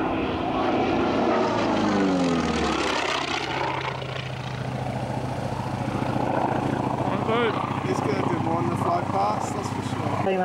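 A T-28 aircraft with a big 1400-horsepower radial engine flying at an airshow, a loud continuous propeller drone that shifts in pitch as it passes, under a public-address commentator talking throughout.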